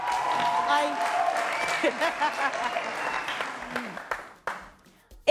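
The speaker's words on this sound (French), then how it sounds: "Applaudissez." Studio audience applause during a French music talent show, a steady crowd of clapping with cheers and music, while people talk over it, fading near the end.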